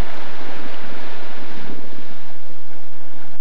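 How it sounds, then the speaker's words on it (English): Churning ocean waves off the Tinian shoreline, a loud, steady rush of surf and wind noise filling the whole moment without any voices. "Here, below the churning waves,"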